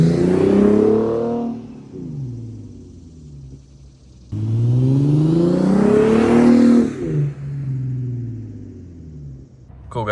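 A Lexus IS300 fitted with a Remark axle-back exhaust drives past, its engine note rising and falling through two loud revving passes, then settling to a lower rumble as it moves off.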